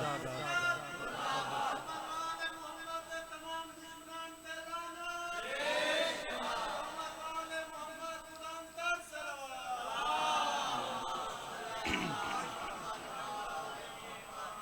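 A crowd at a Muharram majlis in an imambargah chants responses in unison, with loud sustained group voices rising and falling in waves over about fifteen seconds.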